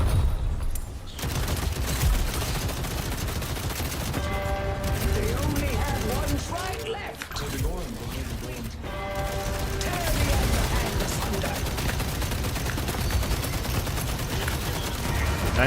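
Gunfire in the Paragon video game, dense rapid bursts of shots and mechanical clatter running almost continuously with brief gaps, loud and close, while players talk over it.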